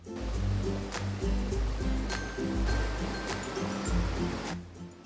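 Steady rushing water of a waterfall in Jhargram, a constant broadband wash heard close by with faint intermittent clicks and a low hum underneath, no voices.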